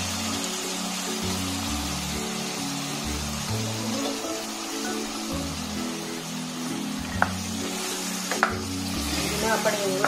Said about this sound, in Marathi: आपण व्यवस्थित परतून घेऊया.